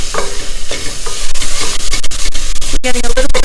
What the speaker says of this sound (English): So our onions are caramelizing nicely.